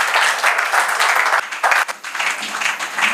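A church congregation applauds in acclaim of the Lord, loud rhythmic clapping from a crowd that swells and dips in waves, with faint voices mixed in beneath it.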